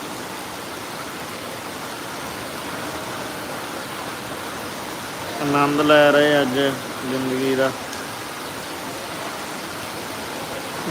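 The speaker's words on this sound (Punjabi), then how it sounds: "ਬਹੁਤ ਮੀਂਹ ਆ ਵੇਖੋ" Heavy rain pours down outdoors as a steady broadband hiss throughout, and a person briefly talks over it midway.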